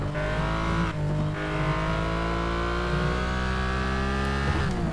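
A race car engine in the Need for Speed Shift 2 Unleashed racing game revs loud and continuous, a high sustained drone with brief dips at gear changes.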